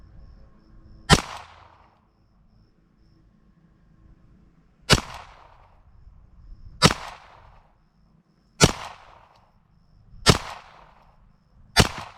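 A Browning Buckmark Hunter .22 LR pistol fires Aguila Super Extra 40 grain copper-plated rounds outdoors at a range, six sharp cracks spaced one to four seconds apart, each with a short echoing tail.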